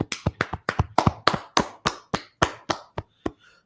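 About a dozen sharp, evenly spaced claps ring out close and loud in a quick steady rhythm at a class gathering, slowing slightly and fading out at the end, with no talking.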